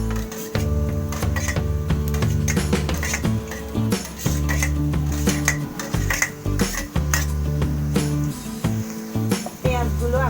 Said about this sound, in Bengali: এখন আমি কুচো পেঁয়াজগুলো দিয়ে দিচ্ছি।